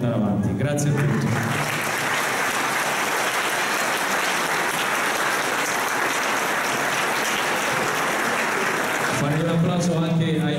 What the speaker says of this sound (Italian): Farei un applauso anche ai maestri,